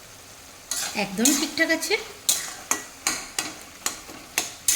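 A spatula scrapes and stirs a fish head and cabbage curry with potatoes, cooked without water, in a pan, giving a clattering swirl followed by about eight evenly spaced, crisp strokes close by, while a voice speaks briefly.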